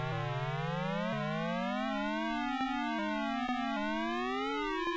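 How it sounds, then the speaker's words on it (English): Electronic siren tones from police sirens in the video game Maniac Mansion wail continuously, their pitch sliding up and down in waves, loud and synthetic-sounding with no one talking. "there's the police sirens"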